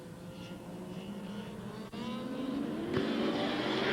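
Super sedan race cars roar off the green flag at Archerfield Speedway, a steady, loud engine drone building slightly in intensity with a brief dip before rising again.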